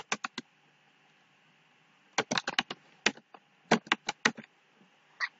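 Typing on a computer keyboard, close and crisp key clicks in short rapid bursts separated by quiet pauses, with no voices.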